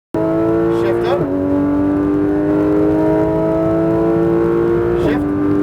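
A Porsche GT3 RS on a racetrack pulls hard after an upshift, its engine a loud sustained rising tone with brief dips at each gear change, close and steady throughout.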